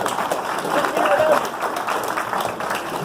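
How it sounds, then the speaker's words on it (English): Guests at a Zoot Suits by El Pachuco 40th anniversary event applaud in a dense, steady patter of clapping, with speech audible under it. "give yourself a round of applause"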